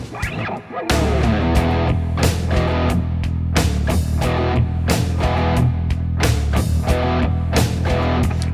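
Distorted electric guitar chugging in tight, choppy staccato sixteenth-note bursts, a quick steady rhythm of short muted strikes, loud and close with no voices.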